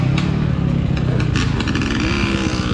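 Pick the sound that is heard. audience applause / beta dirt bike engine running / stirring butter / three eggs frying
beta dirt bike engine running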